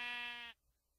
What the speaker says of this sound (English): My flock of sheep. They're all here.